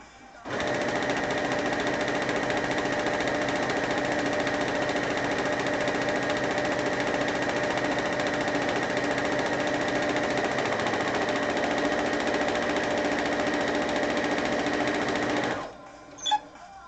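A sewing machine runs continuously for about fifteen seconds in a steady, fast mechanical whir with a rapid needle rattle, then stops, followed by a brief knock.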